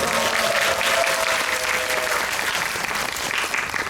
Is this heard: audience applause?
yes